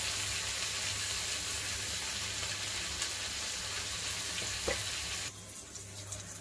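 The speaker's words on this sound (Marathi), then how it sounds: "आता आपले कांदा चांगलं भाजून झाले आहेत, आपण टमाटर टाकून घेऊया।" Onions frying in a pan give a steady, moderate sizzle; tomatoes are added for a bhindi vatana gravy and the sizzle then drops noticeably quieter.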